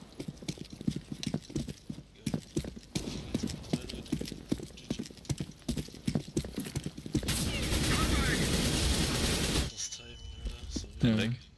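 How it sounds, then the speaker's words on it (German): A whole magazine is emptied in a game firefight: a rapid, dense burst of automatic gunfire erupts near the end, after scattered footsteps and movement, with players talking over the action. "Hab ich gerade mein ganzes Magazin in den reingehalten?"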